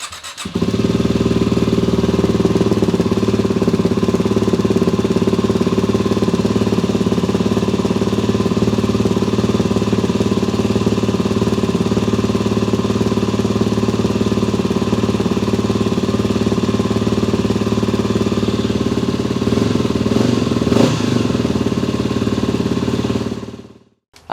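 A Yamaha WR250R motorcycle fitted with a GYTR slip-on exhaust idles steadily and close up for over twenty seconds with a deep, even drone, then cuts off at the very end.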